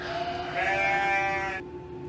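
A toy goat lets out an electronic bleat, a single wavering tonal cry lasting about a second and a half, close and clear with a steady hum underneath.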